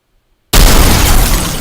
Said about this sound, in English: Destroyed explosion.